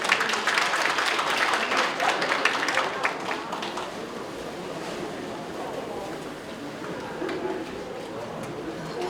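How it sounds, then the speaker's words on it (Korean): An audience claps to welcome a performer, a dense burst of applause that peaks early and then thins and fades, with faint talk beneath. "큰 박수로 맞이해 주시기 바랍니다"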